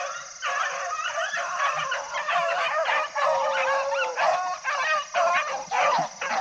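A running hunting dog squalls in rapid, high-pitched yelps and whines, one cry for nearly every breath, loud and close.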